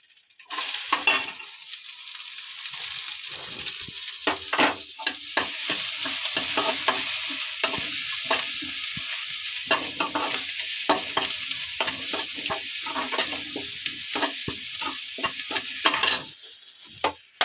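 Chopped onions fry in oil in a pan while making kalani rasam, a continuous close sizzle broken by repeated scraping stirs throughout, with no voices.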